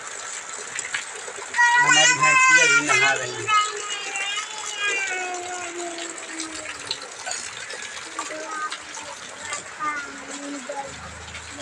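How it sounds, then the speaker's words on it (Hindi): Heavy rain pours down on a rural farm during the monsoon, a dense, constant hiss of water under loud speech and children's voices. "देख लीजिए कितना तेज़ी से पानी गिर रहा है।"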